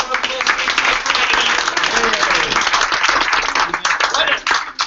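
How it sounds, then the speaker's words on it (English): An audience at a live pitch event claps in sustained, dense applause that holds steady for several seconds before thinning out, with voices mixed in. "Round of applause."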